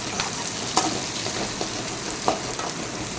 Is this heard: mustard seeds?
yes